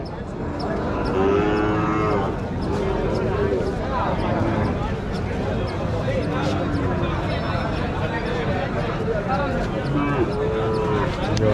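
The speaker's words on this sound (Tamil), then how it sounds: "ரெண்டு கண்ணுக்குட்டி அந்த பக்கம் ஒரு ரெண்டு கண்ணுக்குட்டி இருக்குது" Calves on a farm moo repeatedly and loudly, several overlapping calls close by, while someone talks over them throughout.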